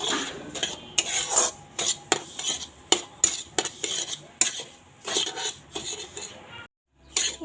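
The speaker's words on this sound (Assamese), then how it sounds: "গাজৰখিনি দি অকণমান ভাজি ল'ম" Semolina and carrots fry in a pan while a spoon stirs them, making repeated scraping strokes against the metal, each short and close. A faint sizzle sits underneath, and a brief quiet gap comes near the end.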